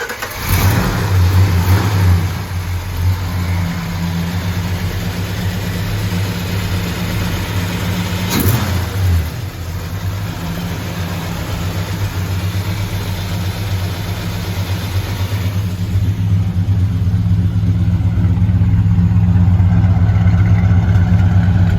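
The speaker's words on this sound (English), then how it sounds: "Taking the Plymouth Road Runner for a spin." A 1968 Plymouth Road Runner's engine rumbles steadily and loud as the car pulls off through a garage, a deep continuous drone with a brief sharp knock partway and a slight rise in revs near the end.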